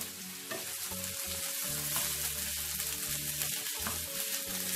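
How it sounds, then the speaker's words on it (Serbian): Tofu cut into sticks fries in a pan for a coconut-milk risotto, giving a steady, close hissing sizzle with faint stirring scrapes and no talking. "Onda dodajemo ovdje taj tofu koji sam isto iseckala ovako na neke, kao neki štapić. Dodajemo znači isto unutra."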